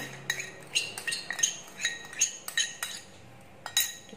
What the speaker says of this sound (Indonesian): kita aduk sampai bahannya bercampur menjadi satu dan halus ya